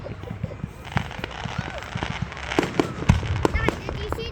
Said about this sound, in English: That's a really big firework.